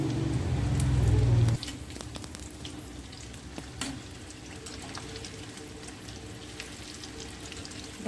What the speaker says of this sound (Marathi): भाजी टाकून घेते तळण्यासाठी।